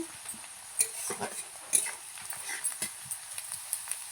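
Onion frying in a pan while being stirred, with soft, faint sizzling and irregular light scraping and clinks of the spoon, quiet and close.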